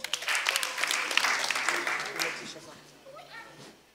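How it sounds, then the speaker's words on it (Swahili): A studio audience at an entertainment talk show claps in a dense burst of applause that gradually thins and fades, with a voice speaking over the tail end. "jipigeni makofi"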